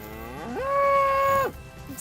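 A cow moos once, a loud, clear, sustained call close by on a Wyoming ranch, calling to her young calf, with no talking over it.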